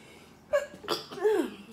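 One person sneezes once, nearby and brief, with a sharp intake followed by a voiced burst in a quiet room.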